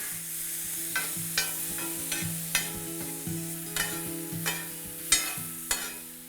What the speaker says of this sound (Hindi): मसाले को हल्का सा बस गरम करिए, और ये गया आपका टमाटर।